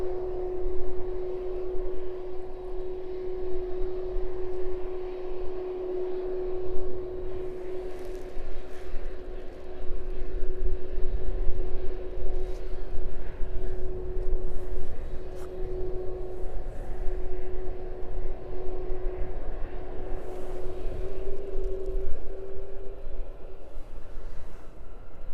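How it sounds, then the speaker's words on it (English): Jet airliner taxiing onto its stand at East Midlands Airport, a steady engine drone with a sustained low whine holding throughout, moderately distant and continuous, no talk. "There it is, arriving in onto its stand."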